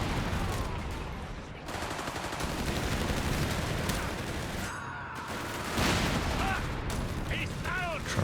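Infantry rifle and machine-gun fire in the real-time strategy game Company of Heroes 3, with dense, continuous bursts and occasional heavier booms under a busy battle mix.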